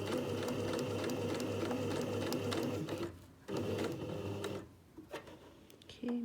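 A sewing machine stitches a V-neck facing in a steady, close, droning run that halts around the V point, restarts briefly, then stops again before a few final single stitches.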